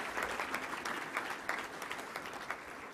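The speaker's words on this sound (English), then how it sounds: "let's give a round of applause for our models here" Diners at a Little Rock Touchdown Club meeting give a short round of applause for two men modelling anniversary shirts, a room full of clapping with sharp individual claps over a steady patter.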